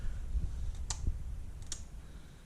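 A few sharp clicks of a light switch inside a 1959 Chevy Apache, two or three quiet, isolated clicks over a low rumbling background.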